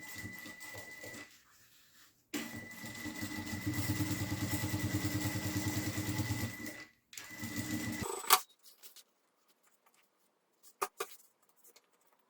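A sewing machine stitches a zipper on a slim cosmetic pouch with a backstitch at the start and end, running in two steady close bursts of rapid needle chatter separated by a brief pause, then a few faint clicks as it stops.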